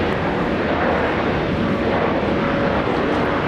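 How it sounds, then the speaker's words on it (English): Jetstar Boeing 787 airliner just after landing at Brisbane Airport, a loud, steady broadband jet roar that holds constant throughout with no talking. "Jetstar 787 just landed here at Brisbane Airport."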